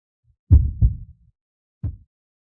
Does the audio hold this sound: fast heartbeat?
yes